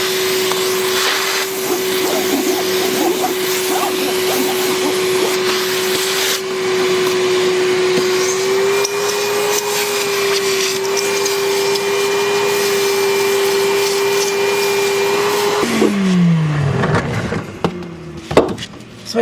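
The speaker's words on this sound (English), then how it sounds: "So I took my shop vac and I sucked out all the holes too" A shop vac runs loudly and steadily, sucking debris out of drilled holes in sailboat fiberglass, then powers down near the end with a falling whine.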